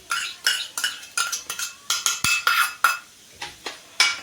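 Raw semolina being mixed with curd in a bowl using a metal spoon, with a steady series of distinct clinks and scrapes against the bowl, close and alone.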